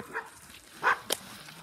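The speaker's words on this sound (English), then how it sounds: "The dogs are freaking out." Dogs bark in a couple of short, sharp bursts at moderate distance, with quiet pauses between them and no talk over the barking.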